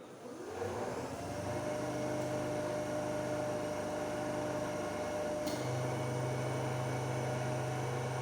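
DC shunt motor in a lab fault-analysis setup spins up and runs steadily, a constant electrical hum with tonal whine layered over a broadband whirr, shifting pitch slightly midway and staying loud.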